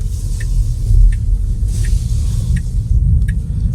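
Steady low road rumble inside a Tesla driving itself in autonomous mode, a constant hum with faint light ticks on top and no talking.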